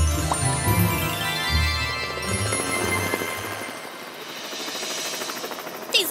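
A cartoon helicopter flies with a rhythmic, chopping rotor beat that shifts from a low, thumping whir into a lighter, steady flutter, loud and close throughout.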